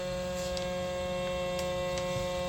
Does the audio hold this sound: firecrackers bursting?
no